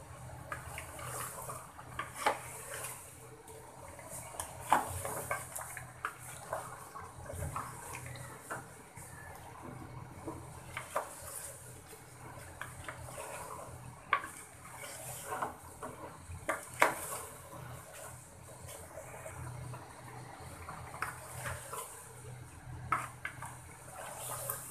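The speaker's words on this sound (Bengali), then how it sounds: "মাংস দিয়ে ভালো করে নেড়ে চেড়ে নিব।" Chicken meat stirred in a pot while cooking a rooster bhuna, quiet intermittent scraping and clinking of a spoon against metal, faint and irregular over a low room hum, no speech.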